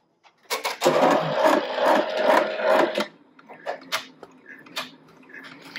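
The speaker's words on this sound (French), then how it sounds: "je vais maintenant broder à la machine le mini zigzag qui va me permettre de sortir le cadre pour faire les découpes" Embroidery machine stitching a small zigzag for Richelieu cutwork, a loud, close, rapid buzzing hum with fast rhythmic needle chatter for a few seconds, then stopping, followed by scattered light clicks and taps.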